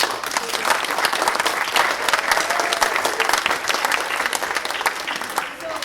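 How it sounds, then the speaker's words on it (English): An audience at an elementary string and NYSSMA recital gives sustained applause, a dense continuous patter of many hands with some crowd voices mixed in. "huge round of applause to everyone."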